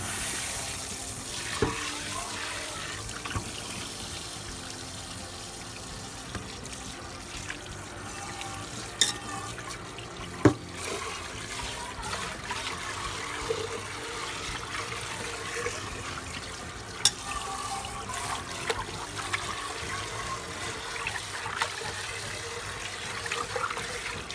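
Tap water runs steadily into an Electrolux 1.8-litre rice cooker pot as it is rinsed at a sink, a soft continuous splashing with a few sharper knocks and drips, no talk.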